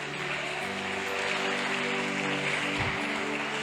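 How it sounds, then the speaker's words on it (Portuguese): Dense, steady applause fills a church service, a congregation clapping together at an even level throughout, with a sustained tone from music or a sound system underneath. "se você dá um aplauso para o Senhor."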